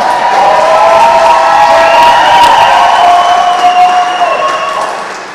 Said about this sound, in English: I could just stay here and just listen to that clap.